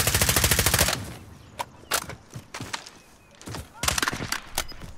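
Rapid automatic gunfire in a battle royale video game, a loud sustained burst opening the clip, then scattered single shots and short bursts at varying distances.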